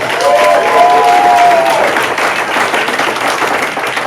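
Loud, sustained audience applause for a newlywed couple at a hypnosis stage show, dense clapping with some crowd noise and a brief whistle-like tone early on, steady throughout.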